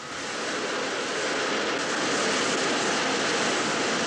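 A jet aircraft on a carrier deck runs its engine at full power before a catapult launch, producing a loud, steady broadband roar that swells slightly and holds without a break.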